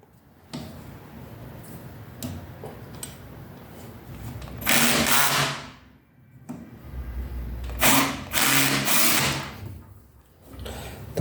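A cable stripping machine grinds through wire in two long, loud bursts of whirring, scraping noise, each with a few short mechanical clicks and handling sounds around them, close by and with no voices.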